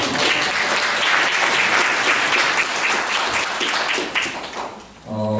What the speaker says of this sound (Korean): 본인한테 박수 한 번만 해주시면 감사합니다